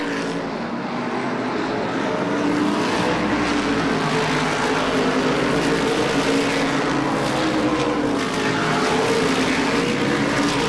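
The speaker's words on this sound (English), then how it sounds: "Wes Hinckley races to the inside of Indiana Rumalana here in the front straightaway" Modified race cars roar steadily around Lee USA Speedway, a loud, continuous engine drone with swelling and fading pitch as the cars pass, and no talking.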